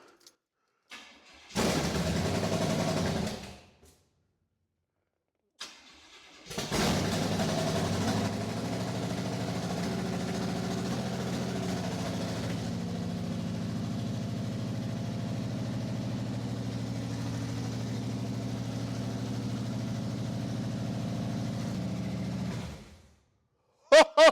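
Engine-swapped Cadillac 500 V8 running on open headers, coughing briefly, cutting out, then restarting into a loud, steady, rough idle that holds for about seventeen seconds before shutting off.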